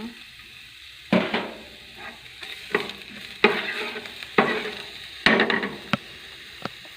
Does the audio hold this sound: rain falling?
no